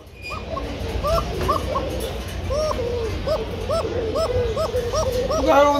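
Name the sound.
pigeons cooing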